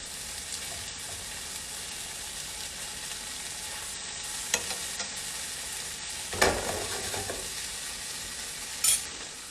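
Shrimp fry in a hot pan with a constant close sizzle, broken by a few louder crackles and bursts as pieces are laid down and stirred.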